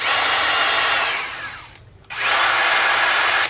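Bosch GSR 10.8 V-EC brushless drill-driver spinning at its second speed setting, a steady close whine that winds down and stops for a moment, then starts again at full speed.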